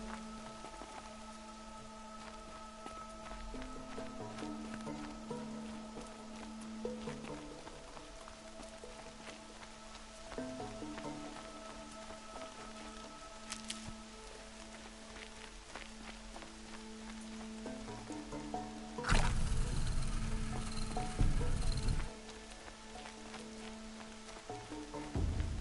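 Steady rain falls in Horizon Zero Dawn, a continuous soft patter with faint game ambience and a brief louder burst of noise partway through.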